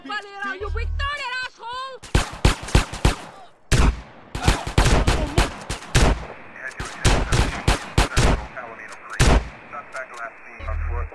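Shotgun blasts in GTA: San Andreas, a rapid series of loud, sharp booming shots fired close by in bursts, with voices talking over the gunfire at the start.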